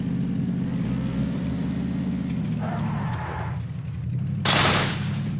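Gunfire in a PUBG squad match: a sharp, loud burst near the end and a softer shot earlier, over a steady low vehicle-engine drone.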